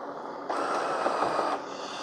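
A Ninja DualBrew Pro CFP301 coffee maker brewing a K-cup gives a steady mechanical whir with a faint trickling hiss that swells for about a second, then cuts off as the drip stop engages, leaving a quieter hum.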